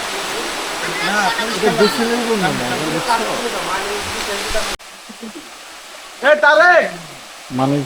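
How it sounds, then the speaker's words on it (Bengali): The Andharmanik waterfall on the Boalia Trail in Mirsarai gives off a steady, broad rush of falling water. Voices talk loudly over it throughout, and after a cut a quieter rush sits beneath more speech. "তবে ঝর্ণাটা কিন্তু খুব সুন্দর।"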